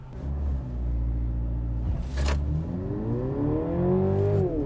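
A Mercedes GLC 300e plug-in hybrid accelerates hard during a timed test, its engine rumbling loud and close as a harmonic drone that climbs steadily in pitch through the gears, with a brief whoosh midway.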